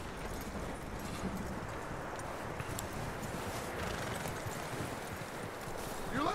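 Horse hooves in Red Dead Redemption 2, a steady rapid clip-clop carrying on under broad outdoor noise at moderate level for the whole stretch.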